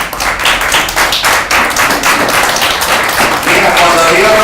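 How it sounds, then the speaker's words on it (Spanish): A church congregation applauds together, giving loud, close, sustained clapping with a pulsing rhythm, while voices mix in underneath. "Dan un aplauso a Dios."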